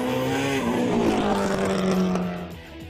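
A Subaru Impreza WRX STI gymkhana rally car drives hard, its engine revving loudly and continuously with rising and falling pitch before the note eases off near the end.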